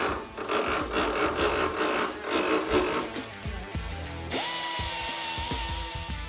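A power tool grinds through a weld on a World War era gun barrel, giving loud, close, harsh cutting noise with pulsing bursts, then a shift to a steady high whine.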